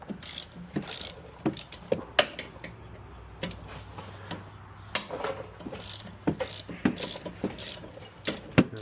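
Hand ratchet clicking in quick bursts while breaking loose the torqued-down brake caliper bracket bolts on a 2017 Toyota RAV4, close and fairly faint, with sharp metallic ticks against a quiet garage background.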